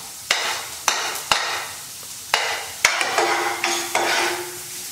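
Chopped garlic and onion sautéed in a pan: a hissing sizzle broken by several sharp knocks of a spoon against the pan, fairly close and clear with no talk.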